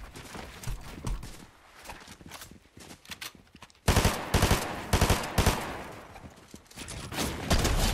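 Gunfire in the video game Fortnite, including a sniper rifle shot hitting a wall: a sudden loud crack partway through, with scattered shots and rapid bursts before it and repeated sharp reports after.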